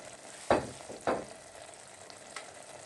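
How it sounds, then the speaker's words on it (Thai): Finely crushed garlic hits melted butter in a pan for pizza sauce, giving two quick bursts of soft sizzling and stirring over a faint, quiet background, close by, with no voice. "เนยละลายดีแล้วนะคะ ใส่กระเทียมลงไปค่ะ"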